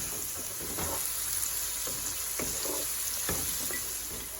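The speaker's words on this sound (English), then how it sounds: "the onion and pepper are sauteing beautifully" Onion and pepper sauteing in a pan for Thai basil fried rice, a steady close sizzle with occasional stirring clacks and pops, no talking.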